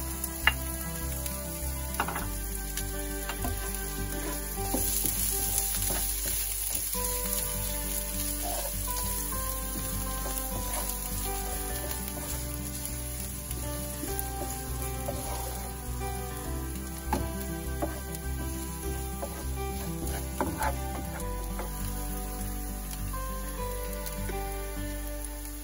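Onions frying in a pan for a shiitake and pork dish give a steady, continuous sizzle, close and fairly quiet, with no speech over it.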